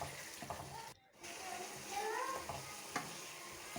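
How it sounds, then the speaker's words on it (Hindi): Coarsely ground tikka masala spices fry in a pan for chicken tikka karahi, a soft, steady sizzle broken by scraping stirs and faint close clinks. "अब हम इसको शामिल करेंगे और अच्छे तरीके से अपने मसाले को भून लेंगे"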